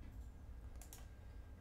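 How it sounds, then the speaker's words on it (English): Two quick, faint keystrokes on a computer keyboard enter a shortcut in SketchUp, heard over a low, steady background hum. "I'm using keyboard shortcut for dimension."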